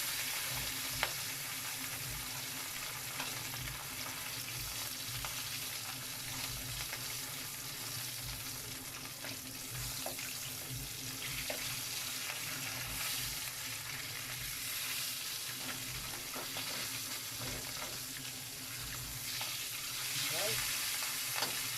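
Red snapper (mayamaya) fries in a pan with a steady, dense sizzle and crackle that holds loud and even throughout, with occasional small pops and light utensil touches.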